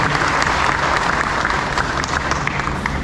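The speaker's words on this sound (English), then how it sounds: "Let's give them a big round of applause." A big round of applause fills an oath-taking ceremony for elected provincial officers, thick continuous clapping from a crowd held at a steady level throughout.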